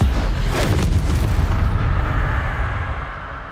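Confringo and Bombarda spell explosions in Hogwarts Legacy burst in quick succession, heavy booming blasts with a crackling onset that roll into a sustained rumble slowly fading away.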